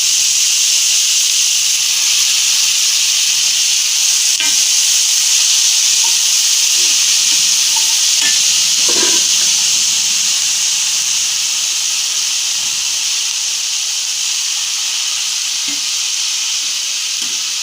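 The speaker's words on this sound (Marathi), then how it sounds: "पालक चांगला परतून घ्यायचा ह्याच्यात तेलामध्ये" A steady, loud sizzle of spinach sautéing in hot oil, continuous hiss and crackle throughout with no voices.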